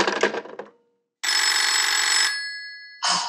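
An old-fashioned telephone bell in a radio drama rings loudly in a long metallic burst, followed by a pause and the start of another ring.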